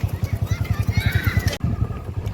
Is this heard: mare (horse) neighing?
yes